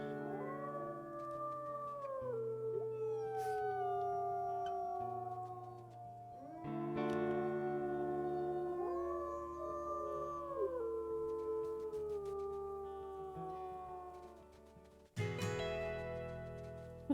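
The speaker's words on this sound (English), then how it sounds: "a squeaky howl" Wolves howling in the video game WolfQuest, a squeaky, wavering howl rising and falling in several long calls over an echoing backdrop, with a sharp burst near the end, no talk.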